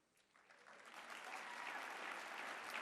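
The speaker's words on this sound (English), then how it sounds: "Don't clap." Audience applause at a CPAC 2020 speech swells from quiet to a full, steady round of clapping, distant and even.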